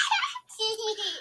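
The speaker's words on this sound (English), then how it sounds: "So here's the sound of a baby giggling and laughing." A baby giggles and laughs in a short, bright burst of a couple of quick, close-up giggles.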